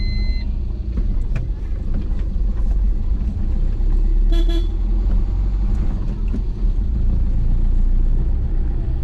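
A car drives along a village road with a steady low rumble, and its horn gives a short toot at the start and another clear honk midway.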